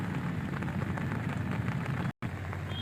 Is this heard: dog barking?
no